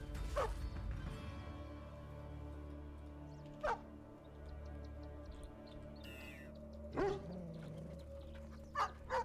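Dog units in the real-time strategy video game Stormgate give a few sparse, short barks and yips over a steady low game hum, spaced several seconds apart.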